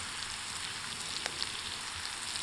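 Mr. Noodles stir fry crackling and sizzling steadily in a pot hung over a campfire, a continuous close hiss with faint pops and no talking.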